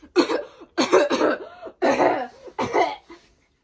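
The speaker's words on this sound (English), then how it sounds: "How long have you had that cough?" A man coughs in a cellar on a stage skit, four rough harsh bursts in a row with short gaps between, near and fairly loud, no talk over them.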